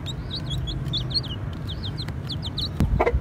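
An angry, confined rooster clucks repeatedly in short agitated bursts over a constant low hum, ending in a louder, closer flurry of squawks.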